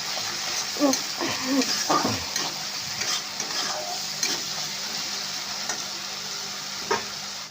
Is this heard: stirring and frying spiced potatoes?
yes